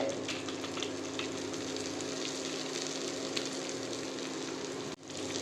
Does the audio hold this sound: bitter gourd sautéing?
yes